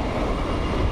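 A steady, loud rumbling roar of a train car in motion fills the space, broadband and continuous with no voices.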